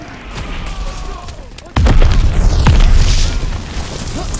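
Heavy gunfire and booming blasts on the D-Day beach landing in Call of Duty: WWII, loud and dense, swelling into a sustained roar of shots after a quieter opening.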